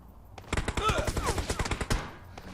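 Rapid gunfire from PUBG Mobile fires in a dense, steady burst of sharp shots lasting about a second and a half, close and loud, with voices and game sounds mixed in.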